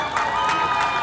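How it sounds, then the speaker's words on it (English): Graduation ceremony audience clapping in a steady dense wash, loud and close, with crowd noise mixed in throughout. "A very big hand clap."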